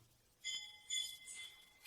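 A bell hanging from a she-elephant's neck at the Kuntugiri Kshetra temple gives a few faint, bright metallic rings in quick succession.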